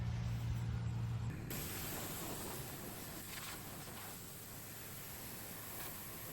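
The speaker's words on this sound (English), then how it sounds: "So I'm gonna get back to pressure washing." Steady broadband hiss of a pressure washer spraying a very dirty 1956 DeSoto car, continuous and fairly close, with a brief low hum at the start and no talking.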